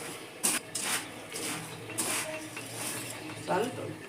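Masala Maggi chaat ingredients get mixed in a bowl with a utensil, giving a few close clinks and scrapes against the dish between quieter stirring.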